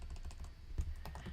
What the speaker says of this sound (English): right inside of this tag, we can start typing our first step